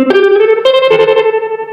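Electric guitar run through a Boss TR2 tremolo pedal set for a glitchy sound, a loud sustained chord with choppy, stuttering pulses and re-struck attacks, no voices.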